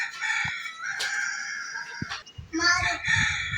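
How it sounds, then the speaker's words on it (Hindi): A chicken calls out near a rural village home in a series of close, loud crowing and clucking bursts, with a few short knocks and some background voices in between. "मुर्गी को भगाओ।"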